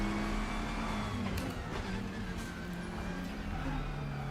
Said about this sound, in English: Like the sequential gearbox whine combined